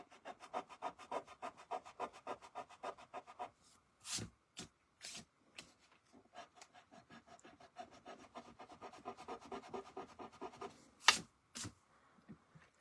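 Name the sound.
rubbing a paper card with a tool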